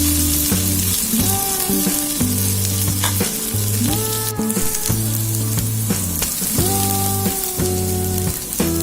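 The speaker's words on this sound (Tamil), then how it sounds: "மறுபடியும் கொஞ்ச நேரம் ஃப்ரை ஆக விடுவோம்" Okra (vendaikai) frying in a pan for a Tamil stir-fry, a steady close sizzle running under music throughout with occasional stirring scrapes.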